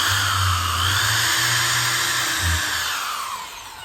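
A power drill bores a pilot hole in wood, a steady close whirring hum holding for several seconds, dipping briefly, then tapering slightly at the end.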